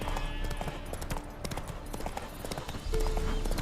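A horse's hooves clip-clop in a steady, quick rhythm in The Witcher 3: Hearts of Stone, crisp and close against a quiet outdoor ambience.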